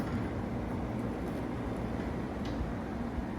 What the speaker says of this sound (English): now we'll start it up with the air conditioner